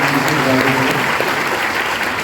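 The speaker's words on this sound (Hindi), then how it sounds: "एक बार मैं चाहूँगा जोरदार तालियां इसके पीछे बजा।" Loud, sustained applause from an audience at a business leadership event, a dense unbroken roar of clapping that fills the whole moment at even volume.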